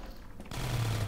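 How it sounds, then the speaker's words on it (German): An automated turret fires in Half-Life 2: Episode 1. After a quieter lead-in, a rapid stream of gunfire starts about halfway through and keeps going steadily at moderate loudness. "Das ist auf jeden Fall der Turret."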